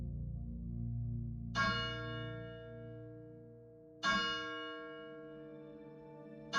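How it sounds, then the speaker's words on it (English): Church bell in a bell tower struck three times at slow, even intervals, each strike clear and ringing with a long, slowly fading hum, heard alone against silence. "you all hear a bell, just like a bell tower"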